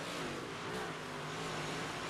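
Race cars roar down the back straightaway of a simulated oval in the iRacing game, a dense, steady engine drone filling the whole moment with no pause.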